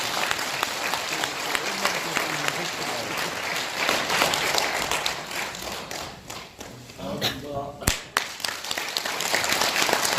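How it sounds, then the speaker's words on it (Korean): A seated audience at a conservative political forum gives sustained, vigorous applause that rolls on for about ten seconds, with a few sharper thumps and taps and some voices beneath it. "모두 힘찬 박수 부탁드리겠습니다."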